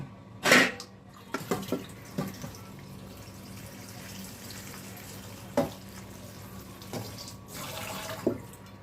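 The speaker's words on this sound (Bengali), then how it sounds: "প্লেটটা দিয়ে তারপরে ধুয়ে ফেলছি জলটা ঝরিয়ে নিচ্ছি" Tap water runs and splashes as a plate is rinsed at a kitchen sink, with a few sharp knocks of the plate against the basin over a soft, steady flow; no speech.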